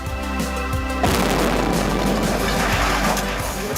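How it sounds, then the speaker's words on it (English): News footage of an enormous explosion: an abrupt, loud broadband boom that swells into a sustained, rumbling roar with crackling debris, following a brief tonal hum and heard without talk. "An enormous explosion that's just come down."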